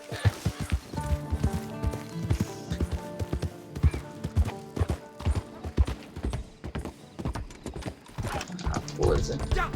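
A malnourished horse in the Red Dead Online video game trots with a steady, quick clip-clop of hooves, accompanied by light tack and gear rattle, while a player talks over the game sound.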